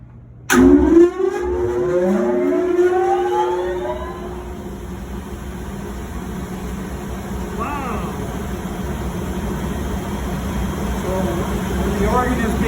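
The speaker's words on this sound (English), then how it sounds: "So when this starts up, it sounds like a turbine or a jet engine firing up." A pipe organ's blower motor starts up with a sudden thump and a rising, turbine-like whine that sweeps upward and settles into a steady loud roar and hum, with people talking nearby.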